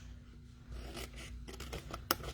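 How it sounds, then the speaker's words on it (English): Scissors snip small tabs off a plastic treat bag, a few quick close cuts and rustles, ending in one sharp clipped snap. "We want to cut these small tabs right off."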